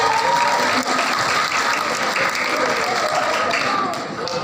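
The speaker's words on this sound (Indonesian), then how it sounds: "Tepuk tangan hadirin." Sustained audience applause at a formal academic address by a professor, dense and steady throughout, with a voice briefly audible over it.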